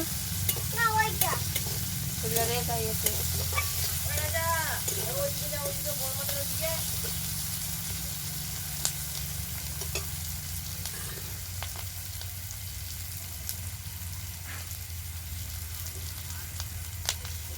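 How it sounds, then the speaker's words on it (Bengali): Chopped onions frying lightly in a pan give a steady soft sizzle with a low background hum, broken by scattered stirring scrapes and clicks, while a voice speaks over the first several seconds. "দুটো পেঁয়াজ দিলাম কুচানো পেঁয়াজ পেঁয়াজগুলো হালকা ভেজে নেব"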